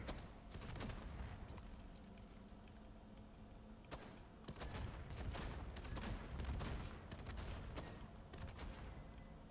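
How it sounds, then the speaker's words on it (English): Rapid gunfire in MW3 Zombies, bursts of automatic shots while fighting zombies, dense and repeated over several seconds alongside game effects. "Shoot those zombies down there."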